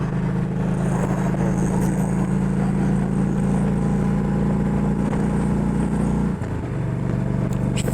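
A car engine drones steadily and loudly under load, holding a constant pitch before a brief dip near the end as a gear changes, then resuming its strong hum.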